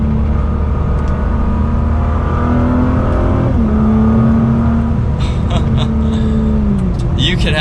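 A 2019 Nissan GT-R Track Edition drives through track turns, its engine droning loud and steady inside the cabin with pitch rising and dropping through gear and throttle changes, while people talk over it.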